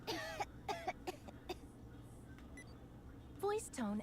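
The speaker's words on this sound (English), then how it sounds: "Coughing." A woman coughs a few times in short dry bursts, near and clear, with voiced sounds at the end, over a steady low electronic hum in a game scene.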